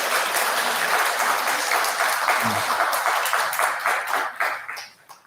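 An audience at a Buddhist dharma talk in a temple claps steadily in sustained applause, the sound thinning and fading out toward the end.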